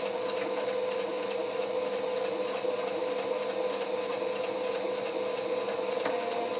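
A sewing machine runs steadily at a slow pace, stitching a pot holder dish towel. Its motor drones with a continuous mechanical whir and rapid needle chatter, close and unbroken.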